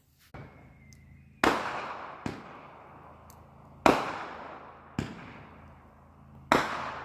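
Fireworks go off at night on a Victoria Day weekend beside an outdoor fire: about six sharp, loud bangs spaced irregularly, each trailing off in a long echoing rumble.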